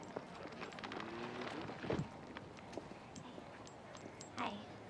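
Hooves clip-clop at a walking pace in the background while people talk over them at moderate volume.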